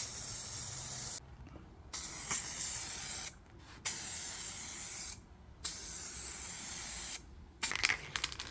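Matte black spray paint, a paint-and-primer top coat, hissing from an aerosol can onto a 1987 Chevy Squarebody fuel tank in four steady close bursts separated by short pauses, with a sputtering final burst.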